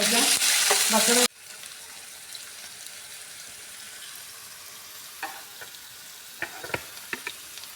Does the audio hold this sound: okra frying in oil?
yes